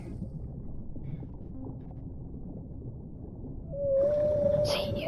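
A whale call in the underwater game Dave the Diver rises out of a low, steady ocean rumble as one long, tonal moan near the end, clear and fairly loud against the muffled water ambience.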